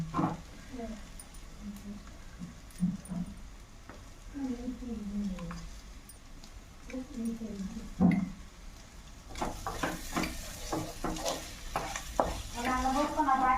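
Egg curry simmering in a pan as it is stirred, with soft scraping and a gentle sizzle beneath a person talking, the bubbling and stirring growing busier toward the end.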